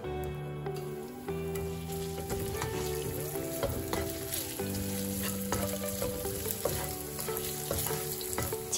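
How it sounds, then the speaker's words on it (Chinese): Shredded ginger stir-frying in hot olive oil over medium heat, a steady, dense sizzle that runs throughout with scraping stir noises and background music. "加入适量的橄榄油，加入姜丝煸炒，"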